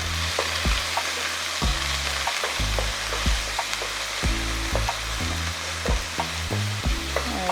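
Meat for three-meat spaghetti sizzles steadily in a pan, with repeated scraping stirs of a utensil breaking through the constant close frying hiss; no voices.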